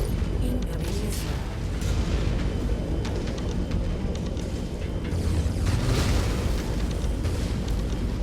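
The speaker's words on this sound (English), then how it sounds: "Incoming missile." Incoming missile explosions in the mech combat video game MechWarrior 5: Mercenaries, a continuous roar of heavy booms and rumbling blasts with mechanical clatter throughout, loud and dense.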